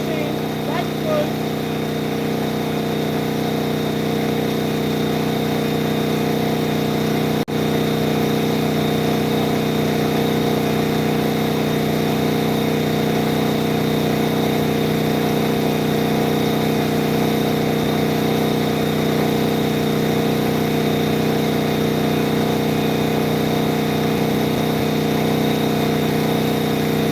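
A generator engine run on fuel made from plastic drones steadily and loudly, with a constant mechanical hum and tonal whine that barely changes for the whole stretch.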